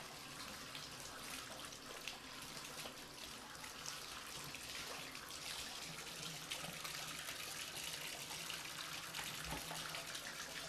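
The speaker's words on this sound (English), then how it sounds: "we let the water run, cold water" Cold water runs from a tap in a steady, even rush, a constant faint splashing stream close by with no talking.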